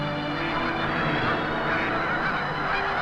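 Canada geese honk in a dense, continuous chorus as a large migrating flock rests on the Mississippi Flyway at Swan Lake National Refuge near Sumner, Missouri, a steady wash of overlapping calls with no clear pauses.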